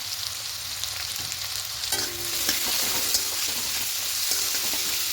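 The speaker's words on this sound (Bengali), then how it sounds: "খুব ভালো করে মিশিয়ে নেব।" Fenugreek greens with turmeric are stirred in a hot frying pan: a steady close sizzle broken by repeated scraping and tapping strokes of a spatula, with no voices.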